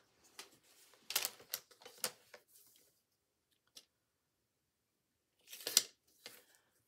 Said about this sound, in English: let's cut this once again